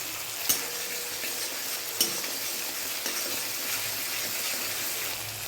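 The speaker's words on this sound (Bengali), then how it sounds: "এটা ভালো করে একটু ভাজা ভাজা করে নেব।" Bay leaves fried and stirred in oil in a kadai while paneer aloo dum is cooked, a steady close sizzle broken by a few sharp spoon scrapes and taps.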